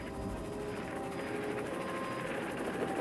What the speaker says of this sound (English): a large helicopter coming directly overhead alerts the swimmer